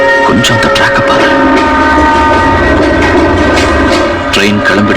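A train pulling out of a station platform, a loud, steady rumble of rail noise with horn-like tonal lines and rattling clicks throughout, with faint voices mixed in.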